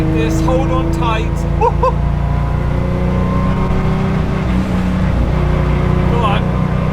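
A restomod Porsche 911 with 315 horsepower and 990 kilograms roars steadily as it accelerates hard on the Oberalp Pass, with a person's voice briefly audible over the drone.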